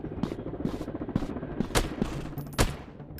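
Rapid bursts of automatic gunfire from a PUBG-style counter-terrorist first-person shooter game, loud volleys repeating every half second or so with sharp individual shot cracks.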